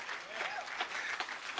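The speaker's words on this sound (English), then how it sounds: "Give Him a good hand clap of praise because you believe that." A church congregation claps hands in praise during a worship service, a dense, steady wash of many hands with scattered louder claps, heard at a distance through the room alongside voices.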